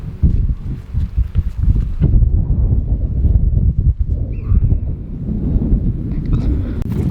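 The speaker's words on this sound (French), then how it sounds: "pour l'instant, niveau vent, il y en a quand même pas mal" Strong wind near a mountain summit buffets the microphone with a loud, continuous low rumble that rises and falls, and faint footstep-like rustles mixed in.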